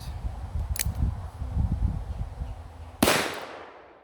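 A 454 Casull revolver firing 45 Colt ammunition outdoors, one sharp loud report near the end after a low rumbling background with a brief click earlier.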